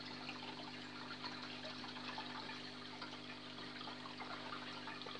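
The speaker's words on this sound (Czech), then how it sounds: "A dáme tady už dát horkou vodu" Hot water poured into a glass jar of ice to thaw frozen fish food for a large channel catfish, a steady, moderately faint gush and trickle of liquid running without pause.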